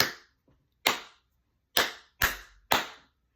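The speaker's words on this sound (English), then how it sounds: "An elementary teacher, when they're trying to get their children to be quiet, they'll clap in a pattern." Sharp hand claps in a rhythmic teacher's attention pattern: a single clap, a faint tap, then four loud crisp claps with short gaps, close and dry in a quiet room.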